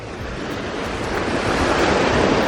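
Ocean surf at Mirissa Beach, Sri Lanka, washes in with a steady, broad rushing roar that swells slightly louder, mixed with some wind noise.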